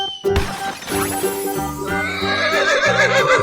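Horse whinny sounding over a busy cartoon-style soundtrack of music and effects from an animal-themed kids' animation, with the neigh rising through the middle and later part of the sequence.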